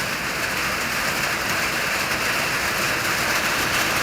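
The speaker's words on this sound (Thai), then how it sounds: "บ้านพี่น้องฝนตกอยู่บ่ทางนี้แหละ" Steady rain pours down on surfaces, a dense continuous hiss with constant loudness, heard alone with no talk.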